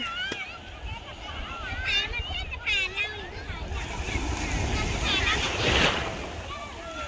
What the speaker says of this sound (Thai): คลื่นแรง